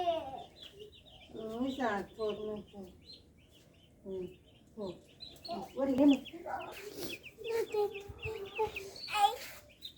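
Domestic chickens clucking close by in a home yard, with short, repeated clucks and calls scattered through the scene. People talk nearby at the same time.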